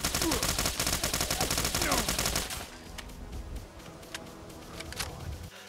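A Fortnite SCAR-L modded into Fallout 4, firing foam darts, rattles off a loud rapid automatic burst for over two seconds, followed by quieter scattered shots and impacts.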